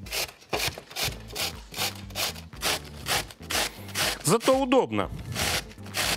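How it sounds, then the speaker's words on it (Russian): White cabbage is rubbed against a coarse grater in quick, regular rasping strokes, close and fairly loud, while a person speaks briefly partway through. "я буду капусту белокочанную для салата не резать ножом, а натирать на терке"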